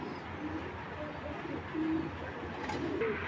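Pigeons of the Peter bloodline coo in a loft, low soft coos rising a few times over steady background noise, moderately close and with no talk over them.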